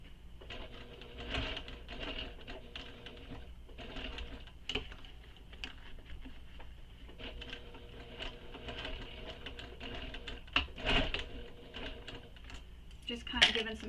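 A sewing machine back-stitching the corner of a handbag, a busy mechanical rattle in short bursts with pauses, nearby and fairly loud.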